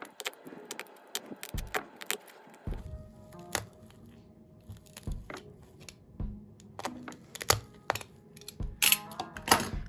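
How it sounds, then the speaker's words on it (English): An X-acto knife cutting a small hole in the panel of a slide sandal, close, irregular scratchy scrapes and clicks, quiet with sharper handling taps scattered throughout. "using your X-acto knife and cutting a small hole right here, right on this panel"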